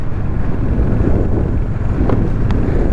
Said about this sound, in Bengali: প্রচুর হাওয়া চলছে প্রচুর হাওয়া চলছে